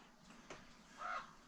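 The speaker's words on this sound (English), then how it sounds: "There's a crow." A single crow caws once, fairly faint and a little distant, over quiet outdoor background noise.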